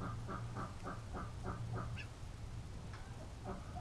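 A duck inside an egg hatching box gives a quick run of rhythmic quacks, then a few more scattered calls after a short pause. The calls are close but fairly quiet, and no one speaks.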